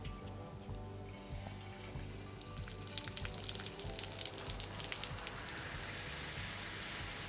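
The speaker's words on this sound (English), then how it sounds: "you have hot line and cold line coming here and getting mixed in your rain head" Outdoor rain shower head running at a Hawaii home, a continuous hiss of falling water spattering onto the ground, steady and close, with faint ticks and splashes building slightly louder.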